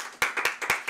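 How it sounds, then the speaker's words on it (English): A few distinct handclaps from a small audience at a comedy talk show, about four sharp claps spaced unevenly over a brief moment, close and moderately loud. "Let's give a round of applause for that"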